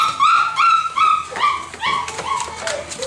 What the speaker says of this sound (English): This litter had so many nice puppies.